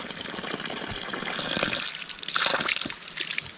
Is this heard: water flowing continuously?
yes